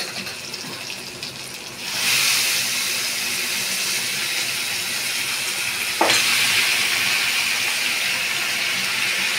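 Vegetables go into a hot pan of onions and reheated fried fish, setting off a sudden loud hiss of steam and sizzle that holds steady, then surges again with a second sharp burst partway through.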